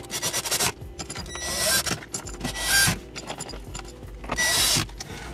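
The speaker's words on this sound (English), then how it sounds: "we're going to go through and put all four screws back in" Four screws being driven back into Acura MDX interior trim with a power driver, short whirring and rasping bursts separated by handling clicks and rustling, close and moderately loud, no speech.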